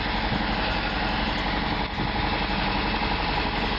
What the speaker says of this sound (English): Now the engine's overheating.